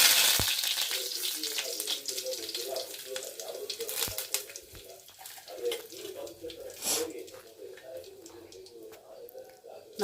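Mustard seeds spluttering and popping in hot oil for avarekalu sambar, a dense crackle of sharp pops, loud at first and thinning out over the seconds.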